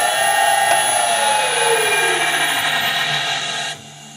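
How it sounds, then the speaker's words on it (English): A metal lathe screw-cutting an adapter for a wood lathe chuck runs in reverse with a loud, steady mechanical whine and a pitch that slides downward, then drops off abruptly as it stops. "That's what happens when you turn the lathe the wrong way."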